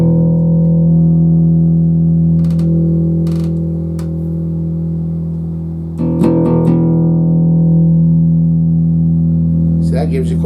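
A Jackson five-string bass guitar plays through its mix control, sounding steady, sustained low notes with rich harmonics and a brief brighter plucked burst partway through, close and fairly loud.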